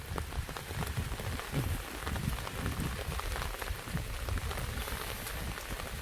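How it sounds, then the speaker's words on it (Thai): Steady rain pours down, pattering densely on a surface with no pauses. "คันฝน ตกแบบนี้นะ"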